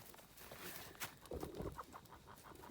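A rooster clucks faintly a few times amid a noisy outdoor farmyard, the short calls distant and partly buried in background rustle.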